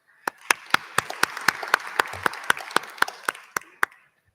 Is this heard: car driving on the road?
no